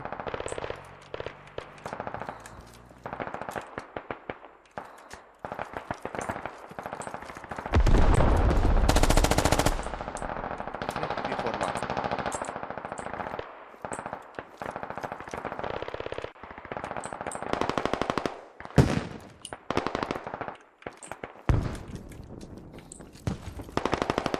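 Gunfire in the military shooter game Squad: rapid machine-gun bursts and single shots crack in irregular clusters, with a long sustained volley in the middle, loud and close throughout.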